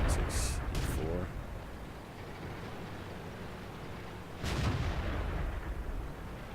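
Tank cannon fire in a tank video game with a T-26 E4: two booming shots, one at the start and another midway, each trailing into a rumbling decay over steady background battle noise.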